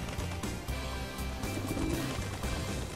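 Cooing pigeons from the Pigeon Park bonus stage of the Big Buck Hunter Arcade game, several low, soft coos over a dense, constant bed of game noise.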